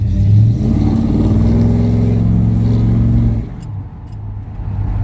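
A Chevy C10 square-body pickup truck's 454 V8 engine, fitted with a new exhaust, rumbles loudly with a deep, throaty exhaust note as it accelerates on the road, then eases off and settles toward a lower drone.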